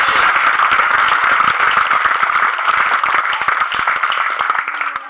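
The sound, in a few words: audience applause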